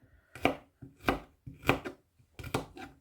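Smoked garlic chopped with a knife on a board: four firm, evenly spaced chops, close and clear with brief pauses between strokes, no talking.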